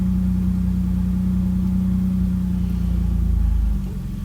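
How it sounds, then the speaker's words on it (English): A 1990–95 Nissan Pathfinder engine idles as its idle air control valve raises the speed, a steady, close mechanical hum that holds level before dropping slightly near the end. "the idle air control valve opens up and increases the speed to match those values"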